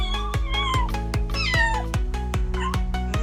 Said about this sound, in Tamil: மியா பூனைக்குட்டி.